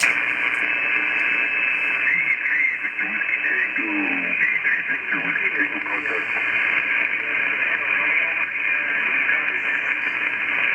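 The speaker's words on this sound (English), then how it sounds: "I got a little bit of noise tonight, but I can hear you in there." A ham radio transmission comes through heavy static hiss, with a faint, band-limited voice buried in the noise throughout.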